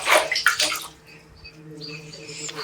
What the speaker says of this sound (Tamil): ஃபர்ஸ்ட் தண்ணி நிறைய ஊற்றணும்